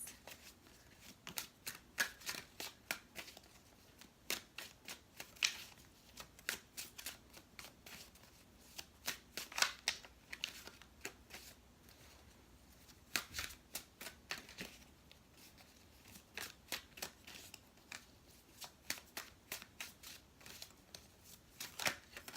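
Tarot cards shuffled and laid out by hand, a run of crisp riffling snaps and flicks that come in bursts with short pauses between, close and fairly quiet, with no talking.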